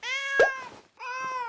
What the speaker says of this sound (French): c'est juste le chat. C'est juste le chat.